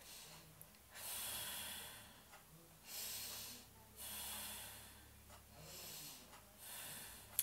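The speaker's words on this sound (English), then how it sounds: "So hold that point and breathe in and breathe out." Slow, deliberate breaths in and out during a guided breathing exercise for easing a gas headache: soft, close, airy rushes come in several separate waves with quiet gaps between them, and no one speaks.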